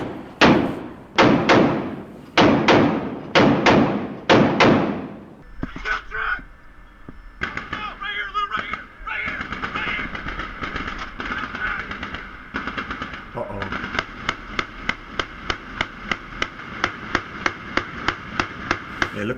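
An Mk-38 25mm chain gun fires heavy single shots, then a long steady run of regular rounds, loud booms over a noisy background, with voices at times.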